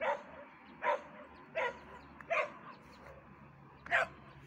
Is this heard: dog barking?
yes